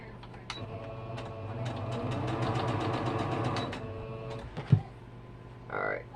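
A sewing machine stitches quilt strips at close range, a fast rhythmic mechanical chatter that runs for a few seconds, then stops with a sharp knock and a soft rustle.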